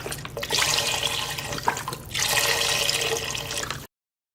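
Vegetable broth pours from a carton into a cooking pot in a gurgling, splashing stream, close by. It comes in two pours with a short break between, then cuts off.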